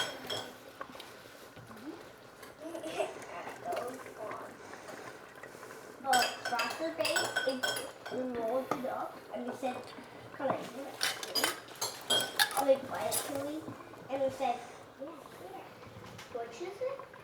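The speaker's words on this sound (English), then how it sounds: "And then we're just gonna ladle that into our hot jar." Homemade wild cranberry jam is ladled into a hot glass jar, with clinks of a metal ladle against pot and glass and soft wet pours, close and intermittent, while someone talks throughout.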